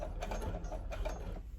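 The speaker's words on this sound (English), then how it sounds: "I'm just going to sew it down and make sure it's super reinforced." A sewing machine stitching elastic onto bandana patchwork pants, running as a soft continuous mechanical hum with faint rhythmic needle clatter, close and alone.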